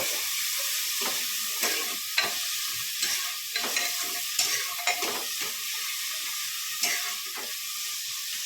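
A tadka tempering sizzles in a hot pan in a village kitchen, with a steady, loud frying hiss throughout and the occasional clink and scrape of stirring.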